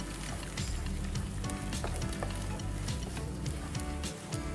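Beaten eggs sizzle and crackle steadily in a hot pan, close and continuous with occasional stirring scrapes, no talking.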